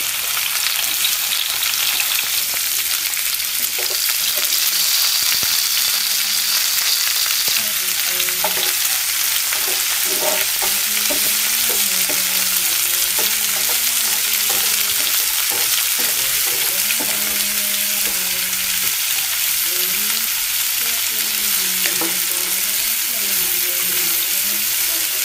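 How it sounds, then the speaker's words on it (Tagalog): Garlic and onion sauté in a hot pan, giving a steady, bright sizzle throughout with occasional clinks and scrapes of stirring, close and fairly loud. "Maggigisa tayo ng bawang at sibuyas uli."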